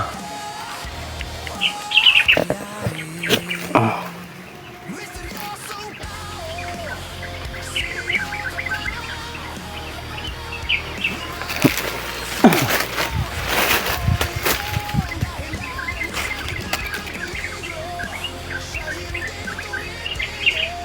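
Many birds chirp and tweet together, a busy chorus of calls with occasional louder bursts and fluttering, some close and some farther off.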